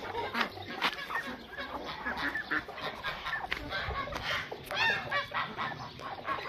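Domestic geese honking repeatedly at close range in a farmyard at dusk, mixed with chicken and duck calls among the other poultry, with no talking.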